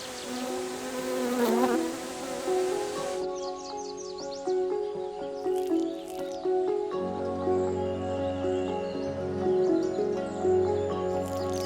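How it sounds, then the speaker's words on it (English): Honeybees buzz close around orchid flowers in the Wuyi Mountains, their wavering drone shifting in pitch, with brief bird-like chirps and other insect sounds in the background. "Once again, the honeybee trusts its own experience, which results in the blending of the pollen."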